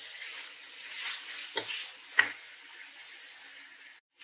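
Half a kilo of chicken fries in oil with garlic ginger paste, a faint, steady hissing sizzle broken by a couple of soft stirring scrapes.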